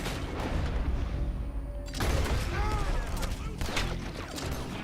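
Rapid gunfire in Red Dead Redemption 2 as animals are shot, dense bursts of cracks and booms layered under game sounds, with a voice talking over part of it.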